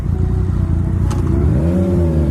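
A motorcycle engine drones steadily on the road at close range, and its pitch climbs smoothly as the rider accelerates toward the end.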